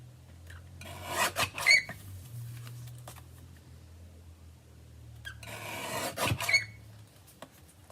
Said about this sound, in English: So let's just trim the white off of it first.